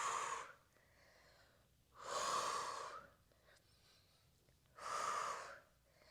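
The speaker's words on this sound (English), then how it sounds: "Inhaling and exhaling." Three slow, audible breaths during a full-body stretching workout, each a soft breathy exhale rising and fading about every two and a half seconds, close and fairly faint with quiet gaps between them.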